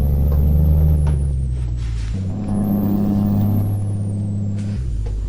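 A Kenworth W900 truck in Euro Truck Simulator 2 rumbles with a loud, steady engine drone whose pitch drops and climbs as gears shift, with no talk.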